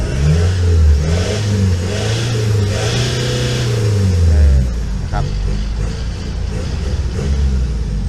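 A 2013 Isuzu D-Max 2.5 Spark pickup engine runs loudly with rising and falling revs, followed by a steadier idle, while someone talks over it throughout.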